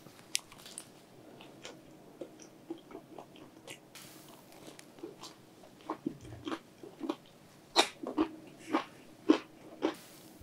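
Close-up crunchy chewing of Domino's cereal-topped chilli crab pizza, a series of crisp bites and crackles growing louder and more frequent, with soft mouth sounds between them.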